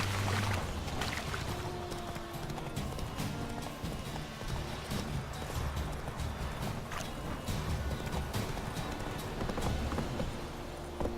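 Roach the horse gallops in The Witcher 3, hooves clip-clopping in a steady rapid rhythm, loud and continuous over ambient game sound.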